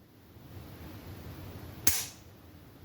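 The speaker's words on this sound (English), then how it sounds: "you can hear the audible click" One sharp, crisp metallic click of a CZ 75 SP-01 Shadow pistol trigger reset stands out against a quiet background, a short mechanical snap close by.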